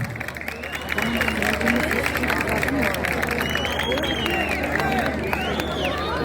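A concert crowd in Hacı Bektaş claps and murmurs as a performer comes on stage at a concert. The applause is steady and moderately distant, with crowd noise and voices mixed in.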